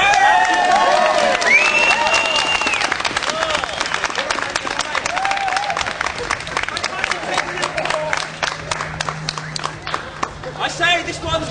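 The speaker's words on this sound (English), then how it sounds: "be prepared to clap for this year's 1889 Miss Cheese!" A crowd claps and cheers for the newly announced Miss Cheese at a costumed 1889-themed event, with whoops and high shouts early on, then a thinning, uneven patter of claps that swells again at the end.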